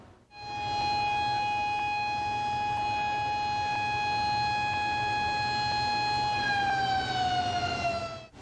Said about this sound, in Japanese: サイレンの合図で一斉に放水が行われました